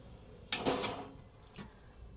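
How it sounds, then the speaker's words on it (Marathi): Water splashes into a pan of chicken curry in a brief burst, followed by a softer second pour, quiet and close with no talking. "आता मला जेवढं पाणी पाहिजे तेवढं टाकून घेतले"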